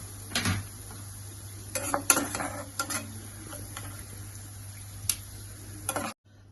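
Metal utensil clinks and scrapes against a pan as fried onions are scooped from oil, over a soft background sizzle, ending in silence.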